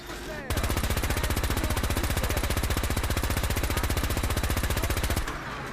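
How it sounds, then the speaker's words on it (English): Gatling laser from Fallout 4 firing a long continuous burst, a rapid rattling stream of electronic shots, loud and even for about five seconds before stopping. "for Final Judgment, those of you who don't know how Gatling laser fires, this is how it fires."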